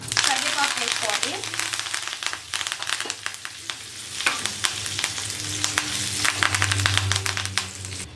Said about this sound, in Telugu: కరివేపాకు వేసుకోవాలి.